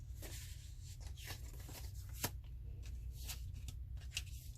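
Jumbo paper index cards being handled and shuffled, giving soft close-up rustles, flicks and papery slides in an irregular rhythm over a low steady hum, with no talking.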